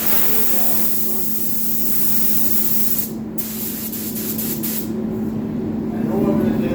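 A paint spray gun lays a heavy yellow metallic base coat onto a wet surface during a colour blend, giving a continuous close, loud hiss with a few short breaks near the middle.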